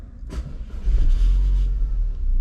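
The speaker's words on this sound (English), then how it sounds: "I'm going to start the car, do a whole cycle" An Audi A4 engine cranks with a brief starter whir, then catches and settles into a deep, steady idle rumble close by.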